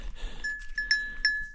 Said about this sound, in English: Goat on the ice.